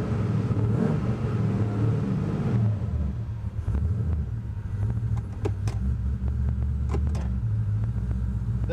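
A car engine with a TH400 transmission idles with a steady low rumble, then revs up to 3,000 rpm and holds a higher, sustained drone, fairly close and loud throughout.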